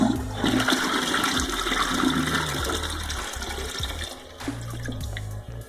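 A toilet cistern refills with water after a flush that cleared a blockage, giving a continuous close hiss and gurgling rush of water that fluctuates slightly throughout, with no talking.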